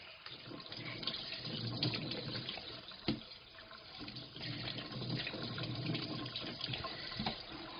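Tap water runs steadily into a sink while mackerel meant for sashimi is rinsed at the Noryangjin wholesale fish market, a continuous splashing flow with a brief knock partway through and no talking.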